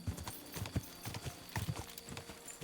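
Horse hooves clip-clop steadily in Kingdom Come: Deliverance II, a quick, close rhythmic trot of hard strikes with a brief whinny-like edge, no talk over it.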